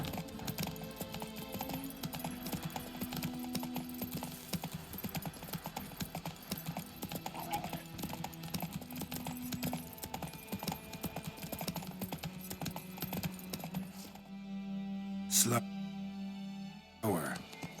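Roach the horse in The Witcher 3 Wild Hunt, with a steady run of hollow hoof clip-clops over ambient game sound and music, while characters talk over it, before the hoofbeats break off near the end.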